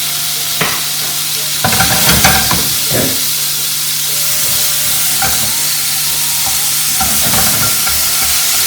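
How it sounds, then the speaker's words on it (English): Beef sears in a hot pan for a Chinese beef dish cooked in batches at a culinary expo, a loud continuous sizzle and hiss with a few scraping stirs near the start. "I cook it in two batches, because if I put too much meat at once in the pan"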